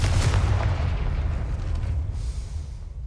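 A Confringo blasting spell goes off in Hogwarts Legacy with a heavy, booming explosion up front, then a rumbling low roar that slowly fades.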